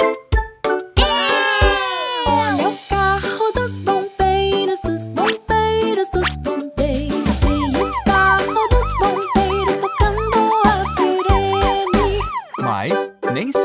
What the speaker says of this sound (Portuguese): Quem quer ouvir os sinos e as sirenes e ver as luzes piscando?